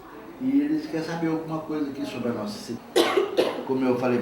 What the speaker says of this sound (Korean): 진찰을 받는 도중에도 기침은 멈추지 않는데